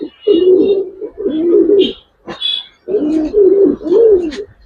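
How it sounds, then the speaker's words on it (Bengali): Imported pigeons, an original pair, coo in a series of close, rounded calls in short bursts separated by brief pauses, with a few higher chirps between them and a faint voice in the background. "এটি কিন্তু অরিজিনাল একটা পেয়ার এবং ইম্পোর্ট করা কবুতর"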